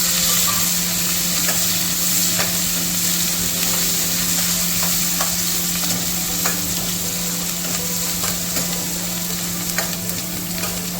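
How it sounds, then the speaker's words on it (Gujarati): Onions fry in hot oil with a constant close sizzle, while a utensil stirs them in regular scraping strokes, with a steady low hum behind and no talk. "ડુંગળીને થોડીક વાર હલાવી રાખો જ્યાં સુધી એનો કલર સારો ના આવી જાય ત્યાં સુધી"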